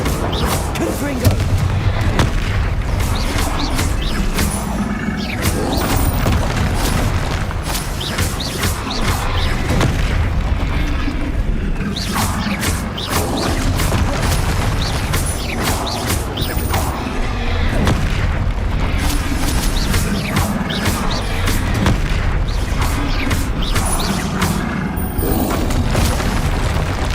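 Confringo spells burst again and again in Hogwarts Legacy, dense booming explosions and blasts layered over continuous game sound with little pause.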